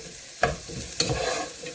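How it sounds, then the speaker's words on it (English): Vegetables for an Irish farmhouse soup being sautéed in a pan, with two sharp stirring scrapes over a soft, steady sizzle; no voices. "And now I had to saute this for 5 minutes."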